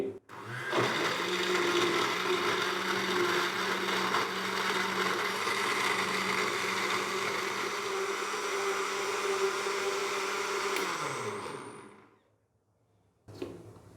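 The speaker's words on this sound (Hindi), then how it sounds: "बर्फ़ डालने के बाद अभी हम इसको दोबारा से ऊपर से कवर करेंगे और अच्छे से इसको ग्राइंड कर लेंगे" A blender grinds apple, banana, milk and ice into a milkshake with a loud, steady whir for about eleven seconds, then spins down and stops, leaving near silence before a brief clunk.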